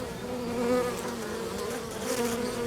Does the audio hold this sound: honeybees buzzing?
yes